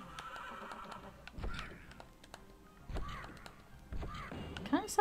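Whinnying, horse-like cries of blight worm creatures in the game Yono and the Celestial Elephants ring out a few times against a dark ambient backdrop, with rustling and thumps between.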